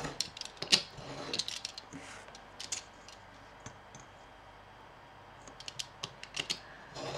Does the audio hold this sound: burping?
no